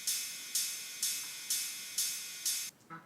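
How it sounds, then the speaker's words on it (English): Ride cymbal hits in a house drop, six evenly spaced bright washes about half a second apart, each ringing and decaying, with a faint low thump of the kick beneath. "We have this ride that plays alongside the kick."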